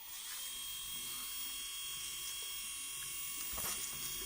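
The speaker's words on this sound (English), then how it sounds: "I'll show you how it works with my windshield wiper motor" A windshield wiper motor driving a mini lathe leadscrew cover runs with a steady, high, whining electric drone, close and constant throughout.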